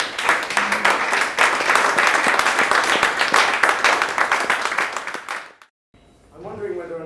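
Warm audience applause for a speaker at a talk on brands and data, dense and fairly loud clapping for about five seconds before fading, followed by a voice starting to speak.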